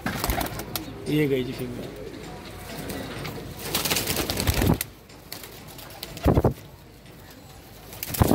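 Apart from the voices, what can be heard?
pigeons cooing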